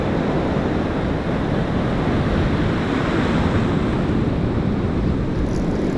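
Ocean waves surge and break steadily on a California beach in the surf zone, a loud continuous roar of churning water with wind buffeting the microphone and no voices.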